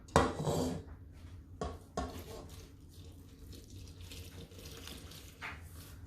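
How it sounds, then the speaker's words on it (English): Warm water pours into a bowl of pita dough ingredients in a home kitchen, a few splashy bursts of running water followed by quieter trickling and light clatter. "you're supposed to add 2 cups of warm water to this"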